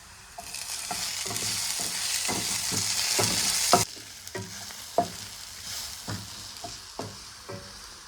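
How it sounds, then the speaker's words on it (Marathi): Onion and tomato sauté in a pan, a steady sizzle overlaid with repeated sharp knocks and scrapes of a spatula stirring, the hiss dropping partway through while the stirring taps carry on. "कांदा टोमॅटो आपला चांगला भाजून झालाय।"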